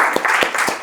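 Brief burst of applause for an artist at a gallery exhibition talk, steady dense clapping at close range with no voices over it.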